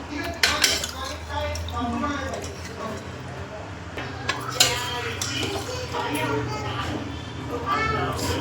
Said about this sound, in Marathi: मी आता या साईडला ठेवून देते आणि कढाई ठेवते गॅसवरती